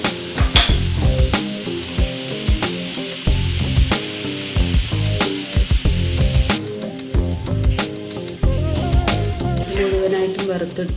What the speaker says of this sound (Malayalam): മുഴുവനായിട്ടും വറുത്തെടുത്തിട്ടുണ്ട്.